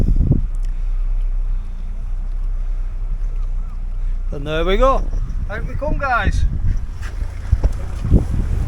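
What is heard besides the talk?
fishing boat engine running at sea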